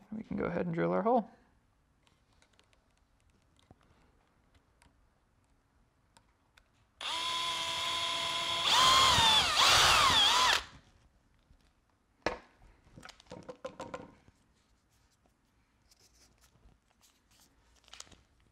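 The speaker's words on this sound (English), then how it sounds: "Go ahead and drill our hole." A power drill bores a hole through a strap while making a DIY camera harness, one loud steady burst of about three seconds, with brief handling clatter and short bits of talk around it.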